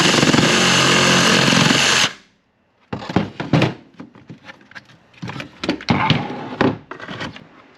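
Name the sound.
Sawzall reciprocating saw cutting a car air intake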